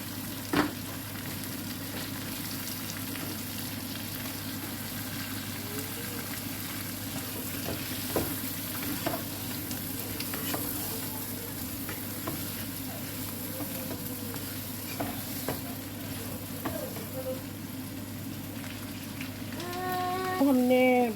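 Quails frying in a karahi with whole spices, ginger and green chili paste give a steady, even sizzle that runs throughout, with a few faint clinks near the end.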